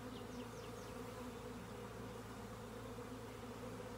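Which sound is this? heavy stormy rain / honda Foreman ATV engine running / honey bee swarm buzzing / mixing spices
honey bee swarm buzzing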